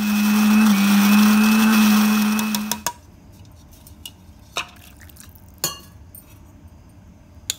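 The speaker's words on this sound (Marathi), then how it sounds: "आपण त्याचं वाटण करून घेऊ" Kitchen mixer grinding roasted masala into a paste, a loud steady motor whine with a rattling jar that cuts off after about three seconds, followed by quieter clinks and taps of the jar and spoon.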